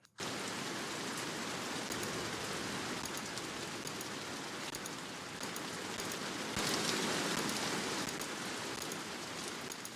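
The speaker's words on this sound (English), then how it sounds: "I have this little rain sound." Steady rain pattering down, a dense even hiss of drops with faint individual ticks, constant from start to finish.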